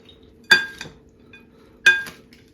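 A spoon scrapes and clinks against a bowl as a ramen noodle salad is tossed with kosher salt and black pepper, giving two bright metallic knocks about a second and a half apart with quiet in between.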